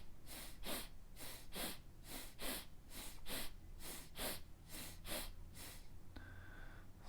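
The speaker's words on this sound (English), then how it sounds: "The breath is going to be shallow" Shallow, fast breaths in a steady rhythm during a Feldenkrais whole-body breathing exercise, each sharp nasal inhale paired with a quick release, repeated about a dozen times close up before a brief pause.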